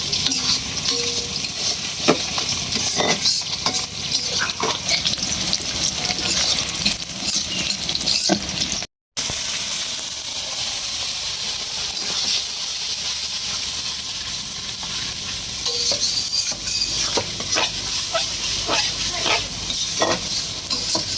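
Meat sizzles loudly and steadily in a hot wok while being stirred and scraped, a dense continuous frying hiss with a brief gap partway through.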